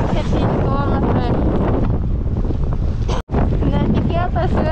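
Strong wind roars and buffets the microphone while sailing off Iceland, loud and continuous, with a voice speaking over it and one abrupt cutout near the end.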